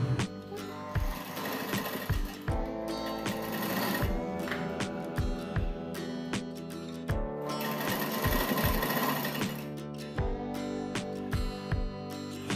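A sewing machine stitches lace onto the side cut of a dress in several quick bursts of rapid mechanical chatter, separated by short pauses and a few thumps. It is loud and close with no voices.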